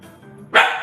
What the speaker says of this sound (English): I heard the dog barking too.